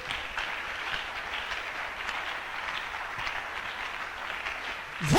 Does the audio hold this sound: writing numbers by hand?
no